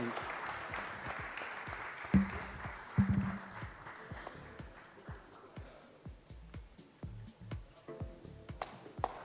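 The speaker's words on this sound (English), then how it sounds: "Give him a round of applause." Audience applause for Vivek Oberoi at an awards ceremony, starting as a fuller burst of clapping that thins into scattered, quieter claps in a large hall.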